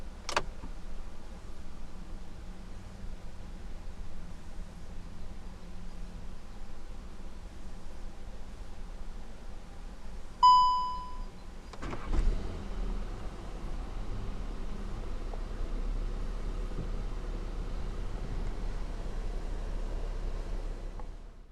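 A 2019 SEAT Leon Sportstourer 2.0 TSI 190 FR starts with a turned key: a short click and chime, then the engine cranks and catches into a low, steady idle inside a quiet cabin.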